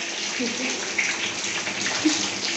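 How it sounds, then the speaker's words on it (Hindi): Fish sizzles in a frying pan in a hostel kitchen, a steady crackling hiss with watery pops that runs throughout while people talk close by. "बहुत ही कष्ट से हम ये मछली फ्राई कर रहे हैं"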